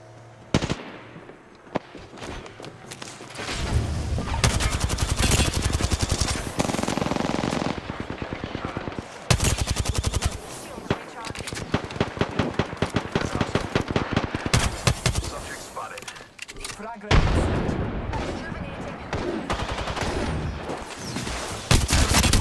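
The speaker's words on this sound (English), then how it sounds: "They're shooting at me." Heavy automatic gunfire in Apex Legends, long rapid bursts of shots and impacts almost without pause, loud and close, with a few brief quieter gaps.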